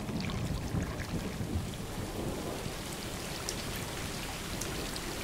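Steady, dense rainfall in the video game Stray, a continuous wash of drops pattering on surfaces with a low rumbling undertone, unbroken throughout and with no voices.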